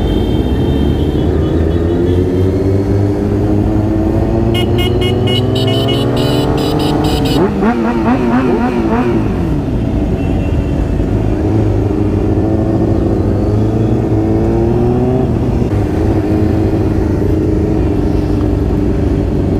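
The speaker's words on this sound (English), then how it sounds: "Come out to see all the bikes going by." Several motorcycles pass at a motorbike meet in Erskine, their engines droning low and revving as they ride slowly by, one rising and falling in a near pass, with a steady rumble of traffic throughout.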